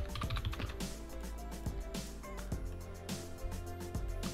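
Someone types on a computer keyboard in quick, irregular clicking keystrokes, close and fairly quiet, with no other sound.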